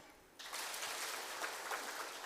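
A seated audience at a motivational self-talk session starts clapping abruptly on cue, a dense, even burst of many hands that holds steady for about two seconds.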